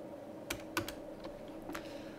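Soft, quick keystrokes on a computer keyboard tap in a short irregular burst, fairly quiet and close, over a low steady background hum with no talking.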